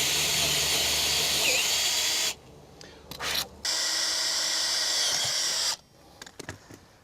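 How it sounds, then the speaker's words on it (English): A power drill whines loudly in two bursts while boring a hole in a log, with a short break between them, then stops, leaving faint rustling and handling noises. "I'm going to drill this hole like this"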